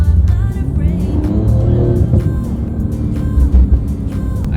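A Porsche 997 GT2 RS with a JCR exhaust rumbles with deep bass, its engine note swelling and dropping through short revs, close and loud.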